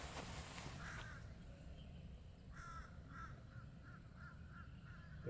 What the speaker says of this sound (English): The river of birds going down has lots of blackbirds, lots of crows